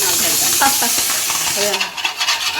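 Masala for a fish curry being stirred and sautéed in a pan, with continuous loud sizzling and repeated scraping strokes of a spoon throughout.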